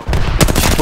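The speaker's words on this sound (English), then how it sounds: "I think they're shooting me." A short, loud burst of rapid gunfire in a video game, several shots cracking close together within less than a second.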